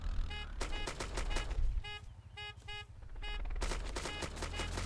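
Gunfire in the video game DayZ: several quick bursts of rapid shots, some sharp and close, broken by short gaps, with a vehicle engine droning underneath.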